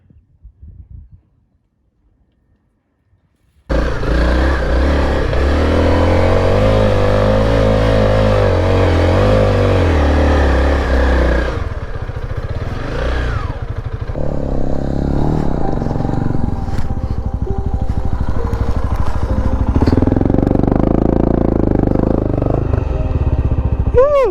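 A motorcycle on a Baja California road trip idles, then is put in gear and pulls away, its engine droning loudly and steadily as it rides, with wind and road noise building.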